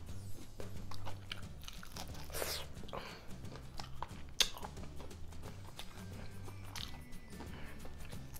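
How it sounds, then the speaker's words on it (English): Close, crisp crunching bites into a fried chicken wing followed by chewing, repeated over several seconds with a low steady hum underneath. "Hear that crunch, guys?"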